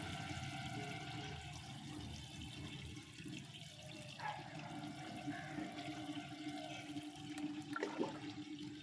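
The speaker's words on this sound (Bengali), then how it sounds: "এখন এই ঝাঞ্জি দিয়ে একটু জল দিয়ে দেবো" Water trickles from a watering can onto freshly sown winter greens seeds in garden soil, a faint, soft, continuous splashing with slight surges, heard close but quiet.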